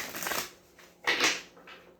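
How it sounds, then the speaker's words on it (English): Tarot cards are shuffled by hand in two crisp, riffling bursts, close and fairly loud, with a quiet pause between them. "One more shuffle."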